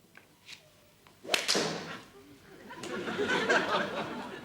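A driver strikes a golf ball with a sharp thwack, followed by a loud swishing rush, in a 1978 British sitcom scene; faint voices murmur around it.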